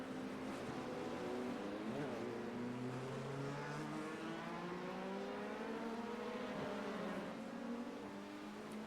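An LMP2 race car spinning off track in iRacing, its engine note wailing and sliding up and down in pitch as it loses control, steady and fairly quiet, with no talk.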